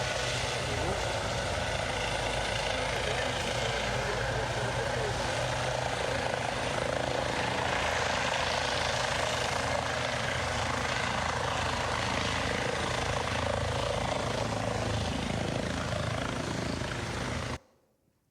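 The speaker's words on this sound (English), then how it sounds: "I can hear a helicopter coming to get rid of him" A helicopter arriving to evacuate a casualty at a motorcycle road safety fire and rescue demonstration, a steady dense rotor and engine roar, fairly distant and constant throughout before cutting off abruptly at the end.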